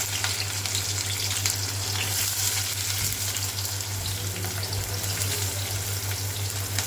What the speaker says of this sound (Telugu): ఆయిల్ కాగిన తర్వాత ఉల్లిపాయలు వేస్తున్నాను.